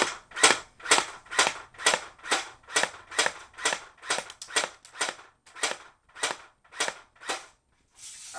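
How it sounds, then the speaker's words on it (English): A Crosman Stinger R71 airsoft gun fired on semi-automatic, about sixteen sharp cracks in a fairly steady rhythm, loud and close, followed by a short pause and then one more shot, with no voice present. "here's the first 10 shots, semi"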